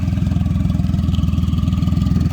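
A Triumph Rocket motorcycle engine with a tuned 150 hp touring setup, worked at the throttle, thumps out a loud, close, steady low pulsing rumble with even rapid firing beats and no voices.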